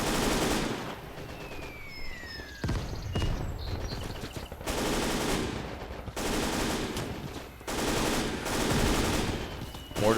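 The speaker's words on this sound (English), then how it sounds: "Mortars are working." Mortar fire in the World War II game Gates of Hell at a Soviet trench defence line, a series of loud heavy blasts and gunfire bursts repeating every couple of seconds over constant battle noise.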